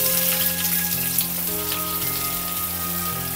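Chopped onions hit hot oil in a pan for a ridge gourd curry, giving a dense, continuous sizzle and crackle, close and fairly loud, with a faint steady hum beneath and no talking.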